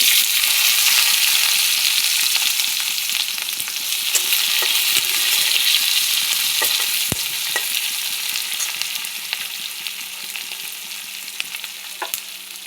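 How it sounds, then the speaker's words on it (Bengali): Onion, chilli and garlic fry with panch phoron in hot oil, a loud, continuous close sizzle with occasional crackles and utensil clicks throughout. "পেঁয়াজ, লঙ্কা, রসুন ভাজা ভাজা হয়ে গেছে।"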